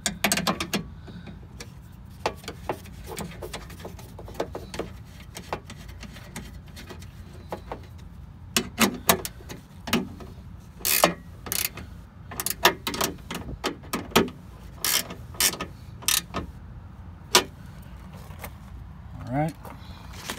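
Fasteners being tightened on a Chevy Silverado rear door latch, a string of sharp close metallic clicks, ratchet snaps and clunks in irregular bursts, with occasional brief talk.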